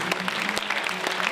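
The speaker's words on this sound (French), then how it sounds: "les gens au bar, on les applaudit" An audience at a chamber of commerce merit awards gala applauds, steady dense clapping filling a brief moment without talk.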